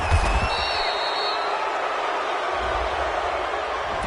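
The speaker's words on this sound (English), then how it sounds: "this crowd does not like that call" A football stadium crowd, a Detroit versus Chicago game, reacts to a penalty call with a steady, broad roar that fills the whole stretch, loud and sustained, with a few brief whistles near the start.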